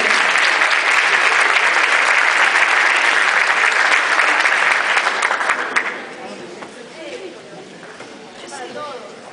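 A crowd at a cultural night exhibition claps loudly and steadily for several seconds for an aikido group, then the applause dies away into quieter room noise and faint murmuring.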